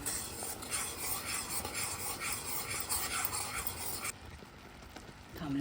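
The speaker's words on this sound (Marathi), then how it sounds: "ढवळत राहा म्हणजे खाली लागणार नाही" Steady scraping and swirling of a spoon stirring a pot of bubbling, boiling sugar syrup for several seconds, then quieter near the end; no voices.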